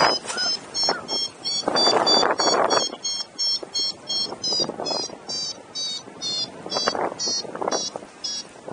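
A paragliding variometer beeps rapidly in a fast, evenly pulsed train of high electronic tones while climbing in strong lift between Mystic and Harrietville, with bursts of wind rumble on the microphone underneath.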